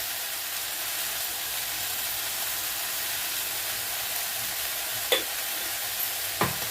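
Okra sautéing in a pan with salt, turmeric and spices: a steady, even sizzling hiss runs throughout, with a couple of brief sharp clinks of a utensil near the end.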